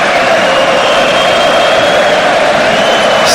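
Spanish football supporters cheer inside a stadium, a steady, loud crowd roar with a sustained chant-like tone running evenly throughout the whole stretch.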